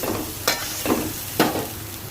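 Bombay duck fish frying in a kadai, with a soft continuous sizzle broken by three distinct scraping stirs of a spatula against the metal, close by.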